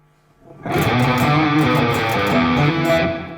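An electric guitar through a NUX MG 50 Li amp with plate reverb on, a strummed chord ringing out with a shimmering wash of sustained echo, loud and alone.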